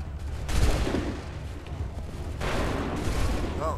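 Musket volleys in Assassin's Creed 3 crack out as dense, overlapping bursts of gunfire, loud and close, with a short pause between two waves of shots and a voice speaking briefly under the noise.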